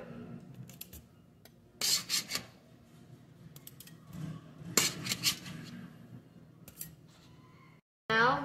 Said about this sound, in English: we're going to scoop them off and put them on the cooling rack